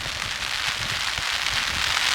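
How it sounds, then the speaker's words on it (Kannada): Strong wind and heavy rain near Ghataprabha dam roar as a dense, steady hiss with gusty low buffeting, loud and constant with no voices. "ಅಷ್ಟೊಂದು ಗಾಳಿ ಇದೆ ಈಗ."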